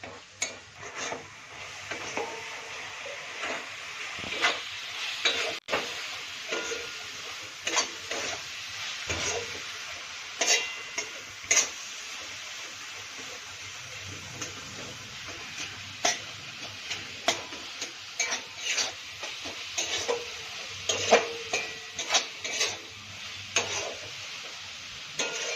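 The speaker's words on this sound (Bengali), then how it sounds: "অনবরত নাড়তে হবে, নাহলে নিচে লেগে যাবে। এরকম চেপে চেপে নাড়বো।" Coconut mixture for coconut laddu is stirred and pressed in a pan with a spoon, giving steady scraping and light tapping through the whole stretch, close and moderately loud with no talk.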